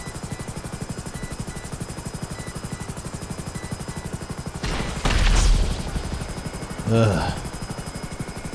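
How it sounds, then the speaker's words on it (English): Helicopter in GTA Online, its rotor chopping in a steady rapid pulse throughout, with a louder rushing burst in the middle and a short vocal grunt near the end. "These helicopters from the new stuff are impossible to control."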